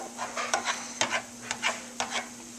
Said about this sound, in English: scrape that pot, boy